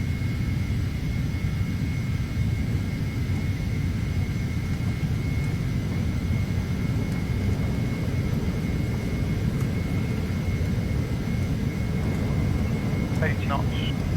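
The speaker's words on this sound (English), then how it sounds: "Takeoff power is set." Jet engines spooled up to takeoff power in a Prepar3d flight simulator, a steady loud broadband roar with a constant whine, unbroken throughout.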